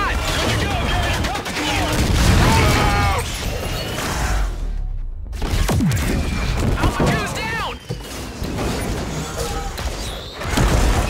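Dense, loud gunfire fills a Call of Duty Infinite Warfare battle at the Port Armor civilian terminal. Shouted soldier voices and crashing, clanking effects are mixed in, with a brief drop-out near the middle.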